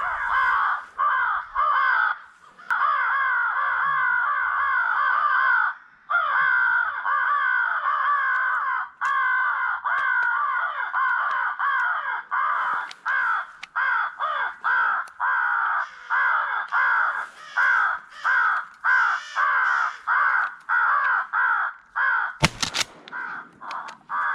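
Crows caw continuously during a crow hunt, a dense, loud chorus of harsh overlapping calls that keeps going nearly without pause, broken by a few short gaps and one sharp burst near the end.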